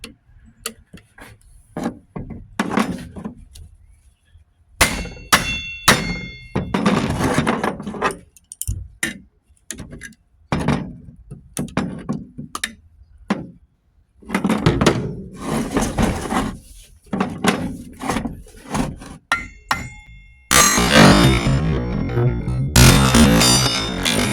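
End caps are pried off an electric motor being scrapped for copper, with intermittent metallic clicks, scrapes and clunks separated by quiet gaps, then a denser burst of rattling near the end.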